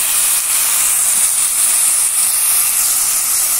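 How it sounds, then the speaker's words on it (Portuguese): Onion and calabrese pepper fry in a hot pan, giving a steady, loud, bright sizzle that continues without break, with no voices. "cebola, pimenta calabresa. E vou dar uma fritada aqui."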